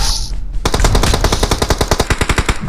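Sustained machine gun fire in the PUBG Mobile battle game, a rapid, loud, even burst of repeated shots that starts abruptly after a brief quieter lead-in and keeps going without pause.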